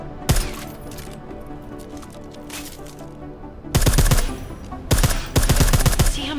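Suppressed gunfire from a silenced weapon in the video game Deus Ex: Mankind Divided, with loud rapid bursts of several sharp shots in the second half over steady background game ambience.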